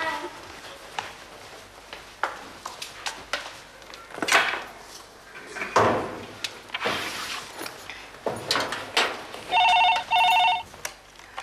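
A telephone rings indoors near the end, two short electronic bursts after a stretch of scattered knocks, thuds and movement sounds, and voices speak faintly in between.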